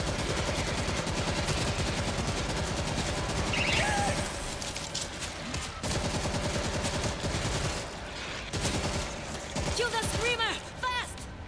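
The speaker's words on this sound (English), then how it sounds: "Auto turret running." Rapid, sustained automatic gunfire from an auto turret in World War Z, dense and loud throughout with other game sounds mixed in, during a zombie co-op mission in Tokyo.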